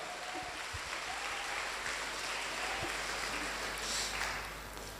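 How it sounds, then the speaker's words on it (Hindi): Audience clapping and cheering at a motivational business seminar, a steady sustained burst of crowd applause lasting throughout, swelling slightly near the end. "उनके लिए एक जोरदार ताली बजाइए जिन्होंने भी आपको इस बिजनेस में लाया है।"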